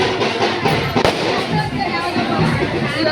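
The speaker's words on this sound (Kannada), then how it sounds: "ಇವಾಗ ಒಂದು ಸರ ಪಟಾಕಿ ಹಚ್ಚಿದ್ರು" A string of firecrackers set off at a temple festival crackles in a dense, continuous rattle of small bursts amid crowd noise, with one sharper bang standing out.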